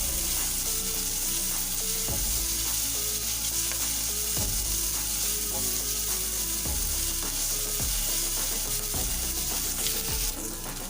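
Finely chopped onions sauté in a pan for chicken kachori, giving a loud, steady sizzle close by. Scraping stirring strokes come roughly every two seconds, and no one speaks.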